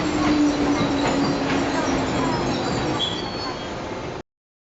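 Train sequence from the Serial Experiments Lain PS1 game: a steady rumbling rail ride with a sustained low hum and a faint high squeal late on, close and continuous before cutting off abruptly.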